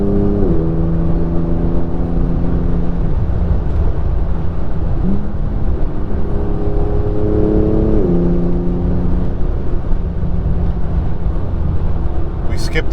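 A 2021 Porsche 911 Turbo S on the road during a three-day rally drive, its engine droning steadily from inside the cabin with shifting tones as gears change, under constant road and wind noise.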